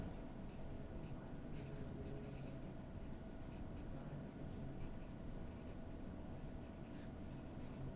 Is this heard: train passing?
no